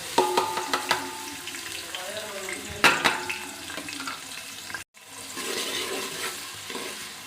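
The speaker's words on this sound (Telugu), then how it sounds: "నేను ఆనియన్స్ వేస్తున్నాను." Chopped onions dropped into hot oil in a pan, crackling and sizzling steadily at close range with a sharp burst near the middle, no talk over the frying.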